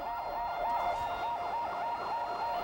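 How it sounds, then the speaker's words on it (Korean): A fire engine siren wails in a steady, rising and falling pattern, continuous and somewhat distant, with no voices. "사이렌 소리가 유난히 크게 들렸던 그날"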